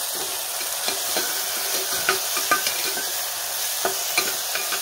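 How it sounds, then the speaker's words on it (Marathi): Turmeric being stirred into a frying pea and field bean masala in a pan, a continuous sizzle punctuated by regular scraping and tapping strokes of the spoon, no voices. "ह्याच्यामध्ये आता आपण थोडीशी हळद, घालून मिक्स करून घेऊया"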